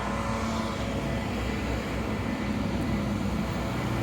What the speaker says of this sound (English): I'm not going to go across yet until these cars go by.